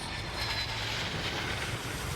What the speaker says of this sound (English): the turbines of a jet engine, they roar